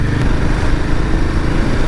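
A Royal Enfield motorcycle engine thrums loud and steady while riding on a road from Haldwani toward Bageshwar, a continuous low mechanical drone with wind noise and no speech.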